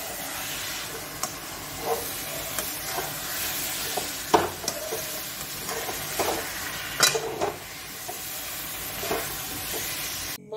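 Fried spices are stirred into boiled raw mango for a sweet raw-mango pickle, a spoon scraping and clacking against the pot in irregular strokes over a soft sizzling hiss, close and without talk.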